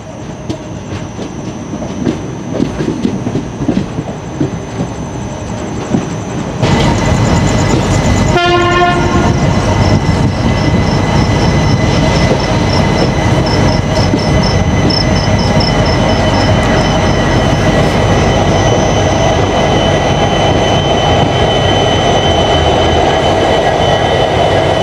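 The Chittorgarh Express runs steadily on the rails with a loud, continuous rumble and rhythmic clatter, and a sustained horn blares partway through close by.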